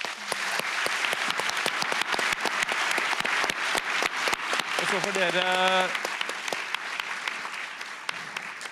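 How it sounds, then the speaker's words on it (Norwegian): At a panel debate on municipal health services, the audience applauds the expert panel with steady, dense clapping and scattered sharp claps throughout, while a speaker talks over the middle of it. "Gi dem en applaus."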